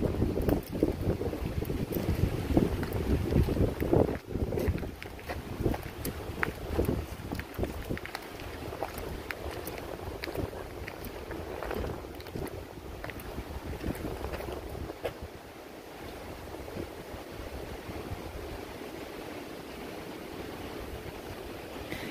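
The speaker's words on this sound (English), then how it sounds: "Windy." Steady wind buffeting the microphone on a hiking trail in the Great Smoky Mountains near Gatlinburg, a broad rumbling roar with gusty bursts that ease off in the second half.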